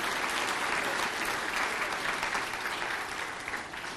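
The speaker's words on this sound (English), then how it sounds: "Let's give them a round of applause." An audience at a wrestling hall of fame honoree event applauds in a sustained, dense burst of clapping that fills the room and slowly tapers toward the end.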